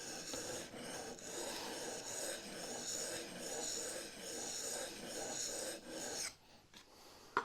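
A chisel is sharpened by hand without a honing guide, stroked back and forth on an oiled stone in a steady rhythm of close, rasping rubs before a pause and a small knock at the end.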